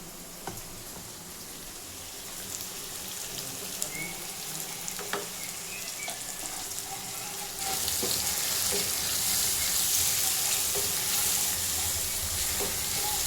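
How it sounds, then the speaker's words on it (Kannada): Tomatoes cook in a pan with turmeric for a bitter gourd gojju, giving a steady close sizzle with a few soft clinks that grows noticeably louder about halfway through. "ನೋಡಿ, ಟೊಮೊಟೊ ಎಲ್ಲ ಸ್ವಲ್ಪ ಬಾಯ್ಲಾಗಲಿ"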